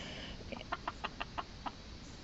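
Chickens in a coop holding twelve birds cluck in a quick series of six or seven short, bright notes, fairly close, over a low background murmur of the flock.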